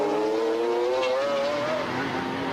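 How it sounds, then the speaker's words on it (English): GT race cars, a McLaren among them, battle into a hairpin at the Linas-Montlhéry circuit in 1995, a loud, steady engine note rising and falling with faint tyre noise and background commentary. "here goes Mancini outbraking the McLaren into the hairpin"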